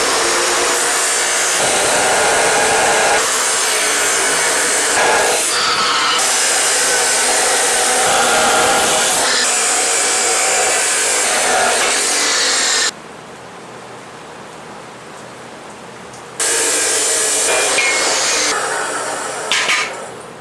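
Steel stock for welding table legs is cut with a power saw, a loud, steady abrasive whine that runs continuously, drops out briefly midway, then resumes before tapering off; no talking.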